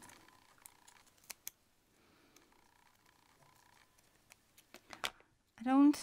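Paper is cut with scissors in a few crisp snips, spread out with quiet pauses between them and faint handling noise, ending on a louder rustle.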